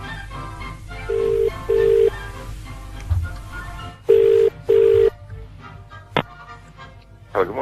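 Telephone ringing during a call on a BOB fm breakfast radio show, two double rings repeating as steady electronic tones, with talk from the hosts and a faint studio bed around them.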